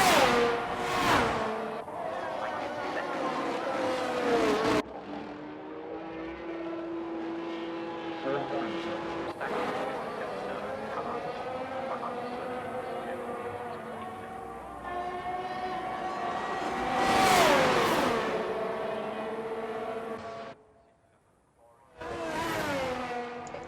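F1 race cars at the Saudi Arabian Grand Prix in a video game, loud high-pitched engine whines rising and falling as cars pass and overtake, with gear-change shifts and a brief quiet gap near the end.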